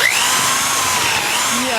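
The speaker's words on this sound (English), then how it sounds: "it's time to cut through this wall." A power tool cuts steadily through a plywood and drywall wall, giving a loud, continuous whine close by with no pause for the whole short burst.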